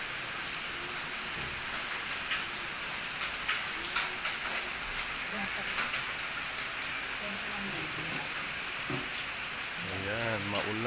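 Steady rain falls on a rainy morning as an even, close hiss with scattered drips, while a voice speaks faintly in the background near the end.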